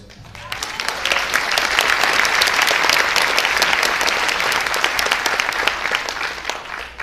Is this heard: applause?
yes